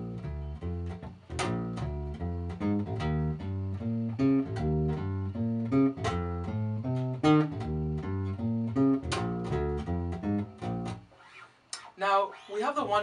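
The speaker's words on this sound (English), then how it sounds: "I'm going to use a walking bass line like in a jazz setting" Bass guitar playing a simple jazz-style walking line built on chord tones one, three, five and seven, steady plucked notes stepping up and down for several bars, close and alone before a brief trailing pause with a few high plinks.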